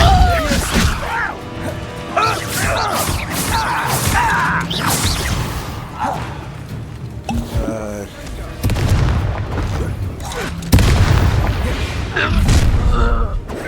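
A Confringo blast spell in Hogwarts Legacy combat: repeated heavy booms and crashes amid a loud magical duel, with voices shouting throughout.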